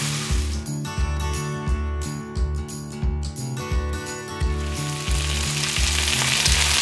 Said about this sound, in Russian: Картошечка с мясом жарится.